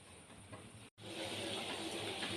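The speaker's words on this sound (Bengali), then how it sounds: "দেখুন, আমার জলটা ফুটে উঠেছে।" Water boiling in a pot for a taro-leaf recipe gives off a steady, soft hiss and bubbling. It breaks off for an instant, then returns slightly fuller. No one speaks.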